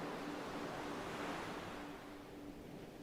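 Low-pitched ocean waves wash continuously at night, a steady broad roar of surf with a gentle swell and slight easing, heard alone without voices.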